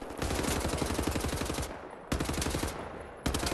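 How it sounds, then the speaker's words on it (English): Loud rapid automatic gunfire from the first-person shooter Wolfenstein: The New Order, dense close bursts in quick rhythm, broken by short gaps before fresh volleys. "leaving cover to shoot at me like an idiot"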